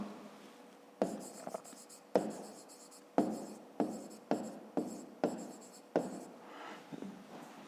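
A pen writes on paper in a series of short, close scratchy strokes, each starting with a tap and trailing off, repeating roughly once a second while someone works a grade 5 math exercise, with no talking.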